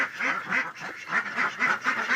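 A female Muscovy duck quacks repeatedly in a steady rhythm, close and fairly loud, with several quacks in quick succession.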